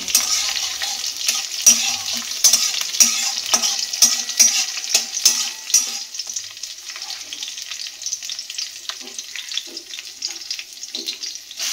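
Dried red chili fries in a pan with a steady crackling sizzle and bright spattering pops, loud at first and gradually settling into a softer hiss.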